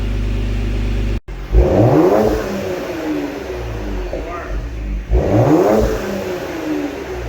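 A 2020 Ford Explorer ST fitted with a Borla ATAK exhaust revs loudly twice, each rising blip swelling and falling back to a steady, rumbling idle close by.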